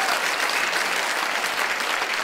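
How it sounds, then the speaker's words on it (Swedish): A dense, loud round of applause from a gala audience for a drummer who plays on improvised kitchen items like dish racks and plates, sustained and even throughout. "vi ger han en applåd där. Extra."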